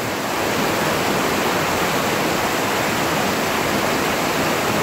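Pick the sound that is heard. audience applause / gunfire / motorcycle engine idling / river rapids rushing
river rapids rushing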